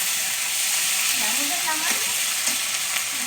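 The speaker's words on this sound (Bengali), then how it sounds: "আদা বাটা পেঁয়াজের সঙ্গে আদা রসুন একটু ভেজে নেবো কাঁচা গন্ধটা যাতে চলে যায়" Onion fries in a pan with ginger and garlic paste, giving a steady, loud sizzle and hiss throughout as it is stirred, with a faint voice in the background.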